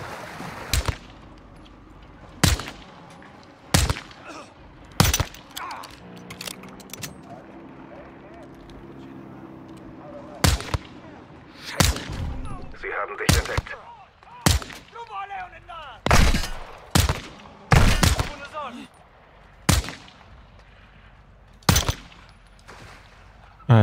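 Loud, sharp gunshots in the Call of Duty: Modern Warfare 2 campaign crack out one by one at irregular intervals, with muffled talk and background game sounds in between.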